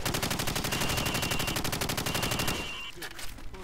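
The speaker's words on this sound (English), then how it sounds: "Now, shoot at the targets while firing from the hip" Rapid automatic gunfire from hip-fire at training targets in Call of Duty 4, a dense steady burst of shots that runs loud for about two and a half seconds before thinning into scattered trailing sounds.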